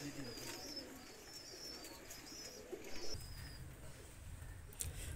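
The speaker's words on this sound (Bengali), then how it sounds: "দেখেন এই দুইটা কবুতর হলো, এটা হলো জুট গিরিবাস কবুতর" Soft, low cooing of Jute Giribaz pigeons rumbles in short phrases beneath faint outdoor ambience and thin bird chirps, with no voices.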